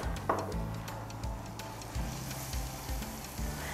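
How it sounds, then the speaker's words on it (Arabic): Garlic sizzles in hot olive oil in a pan, making a steady broadband crackle with a low rhythmic thumping underneath throughout. "هننزل الثوم في الزيت"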